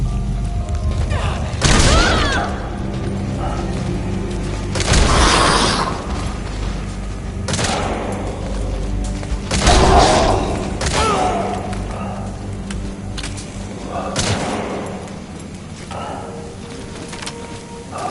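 Heavy gunfire in Metal Gear Solid V: The Phantom Pain, a series of loud booming shots spaced a few seconds apart over a steady low background drone.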